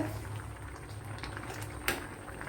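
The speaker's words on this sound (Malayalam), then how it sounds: "ഇപ്പോൾ നമ്മുടെ അരപ്പൊക്കെ നല്ലപോലെ തിളച്ച് അതിൻ്റെ പച്ചച്ചുവയൊക്കെ മാറി വന്നിട്ടുണ്ട്" Thick curry paste bubbles and simmers steadily in a pan, a soft continuous boil with one slightly louder pop, no talking.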